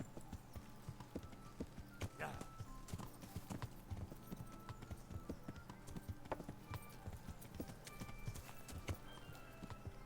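A horse's hooves clip-clop steadily in the medieval role-playing game Kingdom Come: Deliverance, a quiet, even walking rhythm of hoof strikes with a brief whinny-like sound early on.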